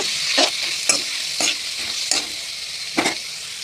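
Ground cumin and chili powder stirred into sizzling masala in a pan, a spoon scraping through in several distinct strokes over a steady close frying hiss, with no talking.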